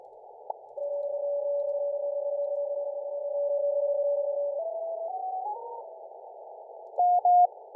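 A CW Morse signal comes through a Hermes Lite 2 software-defined radio on the 20-metre band as a clean, steady tone that steps up in pitch as the receiver is tuned, ending in a few short keyed beeps.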